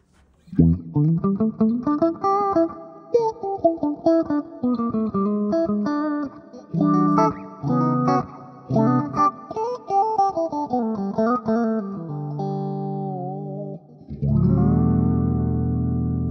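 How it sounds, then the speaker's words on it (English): Electric guitar through an envelope filter on a Hotone Ampero II Stage, giving a quacky, wah-like sweep on each note, played in a busy riff, then a final sustained chord. "here's this really cool envelope filter"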